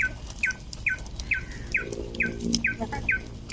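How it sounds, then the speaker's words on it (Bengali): A single bird in a green garden in Putrajaya, Malaysia, repeats a bright, sharp chirping call about eight times at a steady, quick rhythm, clear against a quiet outdoor background. "এখানে একটা পাখি ডাকতেছে"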